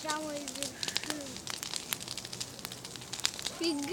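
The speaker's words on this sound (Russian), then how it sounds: "Фига себе, кострина!" A large outdoor bonfire, taller than a garage, gives off scattered sharp crackles and pops. Voices talk and exclaim loudly over the fire throughout.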